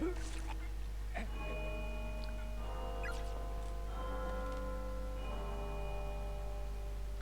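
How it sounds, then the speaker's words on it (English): A clock bell chimes in a pixel-art horror video game, with several struck rings whose long, ringing tones overlap and slowly decay over a steady low hum. No one speaks. "Why would the clock sound though? Bell sound."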